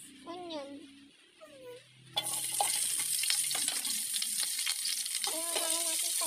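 Onion sautéing in oil in a wok starts abruptly and keeps up a steady, fairly loud sizzle with occasional stirring scrapes, while someone talks before and over it.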